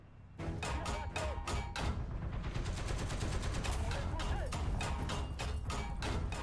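Tank gunfire strikes the player's AMX-30 Super tank in the War Thunder video game. Dense, rapid rattling bursts of shots and impacts continue loudly and without pause after a brief quieter start.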